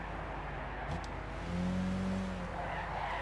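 Lancia Stratos race car driving in Gran Turismo 6, a steady engine drone with a tonal whine rising midway, heard close and continuous with no talk.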